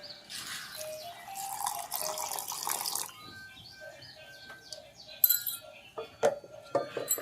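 Water pouring into soaked semolina batter being ground for suji chakuli, a steady splashing trickle for about three seconds, then softer clinks and drips from the vessel.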